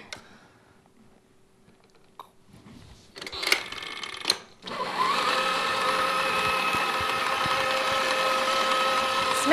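An electric hand mixer whirs steadily through chocolate swirl cheesecake batter, starting after a few brief clicks and handling noises and then running loud and continuous to the end.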